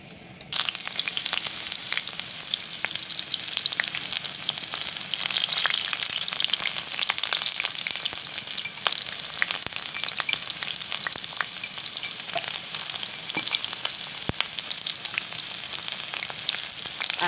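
Cooking oil heating in a pan before cut taro and chicken curry ingredients go in, giving a steady, dense sizzle and crackle with faint pops throughout, close and alone without talk.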